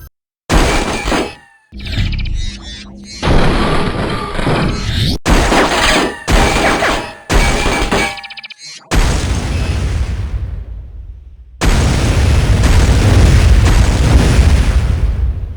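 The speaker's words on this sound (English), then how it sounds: "The second greatest shotgun of all time, it goes to Turok 2's Shredder." Turok 2's Shredder shotgun blasts in the video game with loud, booming shots and bursts of crackling debris, several heavy discharges in quick succession followed by longer, rumbling explosive bursts, no talk.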